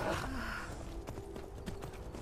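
Horse hooves clopping and a brief whinny from a horse in the video game Skyrim, a steady patter of hoofbeats with scattered sharp clicks under general game ambience, no talking.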